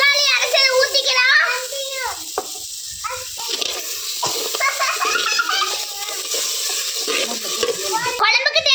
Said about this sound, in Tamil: தக்காளி அரைச்சதை ஊத்திக்கலாம்.